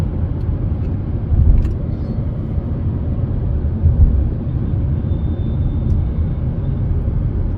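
An MG Astor SUV engine revving while driving, a steady loud low rumble with road noise heard from inside the cabin, swelling slightly a couple of times.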